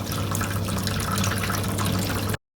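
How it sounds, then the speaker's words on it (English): Water drains through the red tap at the bottom of a Maquet HCU 40 tank during a disinfection procedure, a steady rushing gush with a low hum under it, near and continuous until it stops abruptly. "then we need to drain through the red tap at the bottom"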